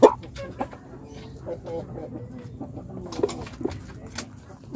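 Chickens, including a rooster, cluck and coo softly at close range while being fed, with scattered pecking sounds and a person speaking intermittently over them.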